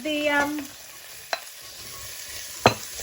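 Beans going into a pan of hot extra virgin olive oil, with a soft steady sizzle and two sharp clacks of a utensil against the pan. A short harmonic tone sounds at the start.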